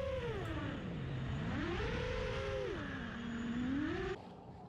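An FPV racing quadcopter on 6-inch props whines steadily nearby, its motor pitch sliding down, up and back as the throttle changes, then ending with a sudden drop in level.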